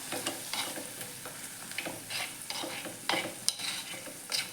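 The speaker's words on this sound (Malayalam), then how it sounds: "അപ്പോൾ ഇത് നന്നായി ഒന്ന് മിക്സ് ചെയ്തെടുക്കാം." Chilli and turmeric powder are stirred into a shallot curry in a pan. A spoon scrapes repeatedly against the pan under a soft, steady sizzle, in a close and uneven rhythm.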